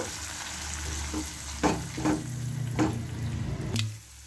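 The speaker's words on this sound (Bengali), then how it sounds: "পেঁয়াজটা একটু হালকা লালচে লালচে করব।" Onion paste frying in a pan for a Kolkata street-style Mughlai paratha, a soft steady sizzle close by, broken by a few spatula scrapes and stirs, with no talk.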